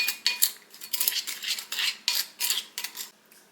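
A spoon scrapes and clinks against a bowl while chopped walnuts are stirred in, a quick run of bright metallic scrapes in an uneven rhythm, close and fairly quiet, with no talking.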